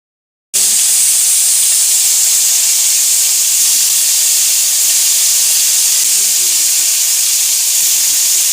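Loud, continuous hissing of hot oil sizzling in a wok starts abruptly and holds steady throughout, with faint voices underneath.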